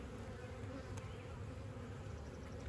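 Honey bees buzz steadily throughout a spring hive inspection while hives are being equalized, a dense continuous drone of many insects close by with no talking.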